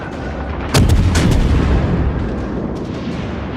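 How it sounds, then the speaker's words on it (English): Warship main guns firing shells in the naval combat video game World of Warships, a loud booming salvo with sharp cracks in quick succession, then a rumbling tail that fades slowly. "We're going to go ahead and start throwing some shells at him."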